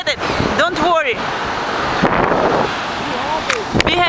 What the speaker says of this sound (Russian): И ветер уносит.